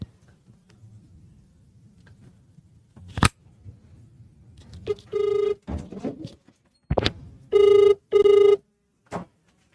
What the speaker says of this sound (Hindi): मिला रहा हूं फोन